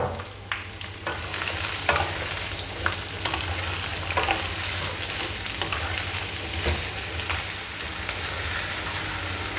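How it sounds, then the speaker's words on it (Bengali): Chopped yardlong beans and sweet pumpkin fry in a pan with a steady, close sizzle, punctuated by periodic stirring scrapes and clicks, and no voices over it. "সব সবজিগুলো এখন আমি ভালো করে ভেজে নিচ্ছি।"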